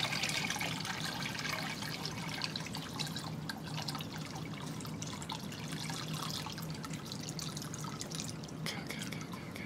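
Steady trickle of water pouring into a container, a continuous splashing flow with faint dripping, no voices.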